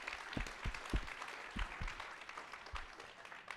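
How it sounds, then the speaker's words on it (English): Applause from an audience at an investment summit pitch night, honoring sponsors and partners; moderate, fairly distant clapping spread over a few seconds with some low thumps and no talk. "I think it's worth a big round of applause for all of our sponsors and partners."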